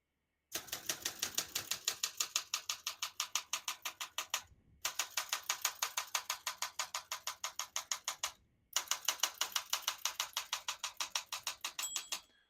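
Fast, regular mechanical clacking in three long bursts separated by short pauses, crisp and close: rapid keystrikes on a 1966 Olympia SM9 portable manual typewriter.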